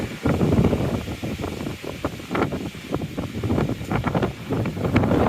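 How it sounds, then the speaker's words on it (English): Strong, gusty wind buffets the microphone in continuous rough roars with uneven surges, loud and close, with no one speaking, outdoors at East Glacier in rain. "It is windy."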